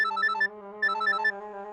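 A melodic phone ringtone plays alone, two repeated bursts of bright tones separated by a brief pause, clear and close.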